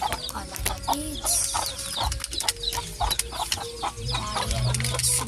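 Chickens at feeding time on a farm cluck and squawk repeatedly in a busy overlapping chorus, with scattered sharp calls over low rustling and occasional mechanical clatter.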